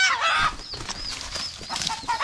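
Bagwis, a pet rooster, gives a short series of close, soft clucks and throaty calls with a brief rustle of wings, sounding alone with no talking.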